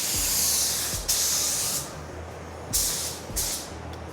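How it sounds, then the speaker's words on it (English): Close, loud hiss of a paint spray gun laying the first coat on a Ram truck, coming in several bursts with short pauses between them, alone with no talking. "We're gonna shoot our first coat."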